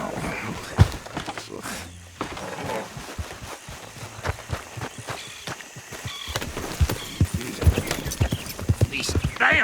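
Horse hooves clip-clop along a dirt road as a horse-drawn wagon approaches in the Red Dead Redemption 2 video game, steady footfalls rising slightly in the later seconds, mixed with rustling and background game ambience.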